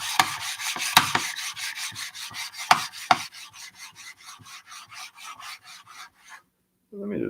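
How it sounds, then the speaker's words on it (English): A knife sharpening stone being flattened, giving a steady run of rhythmic rasping rubbing strokes, loud at first and then lighter, close up, ending in a brief pause and a different faint sound. "our last stone of the evening. I'm just going to give this a bit of that flattening treatment"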